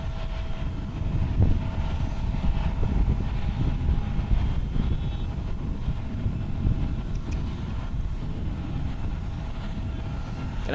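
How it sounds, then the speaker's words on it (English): A sixteen-year-old Japan Airlines Boeing 737-800 runs its jet engines at Haneda airport in Tokyo, giving a steady, fairly distant low roar with a faint whine on top that holds evenly throughout, with no voices. "Japan Airlines flight 163 going AXT, Boeing 737-800, 16 years old."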